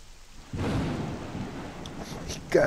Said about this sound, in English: That thunder scared me.